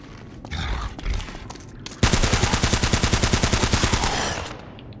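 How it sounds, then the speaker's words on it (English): Rapid automatic gunfire in Uncharted: Drake's Fortune, in the bunker stage: a dense burst of about a dozen evenly spaced loud shots lasting around two seconds, after quieter scattered game sounds and rumbling. "Why 12 shots?"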